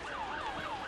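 An ambulance rescue unit in a street parade sounds a rising and falling wail siren, a clear, moderately distant sweep repeating twice in a brief moment with no talk.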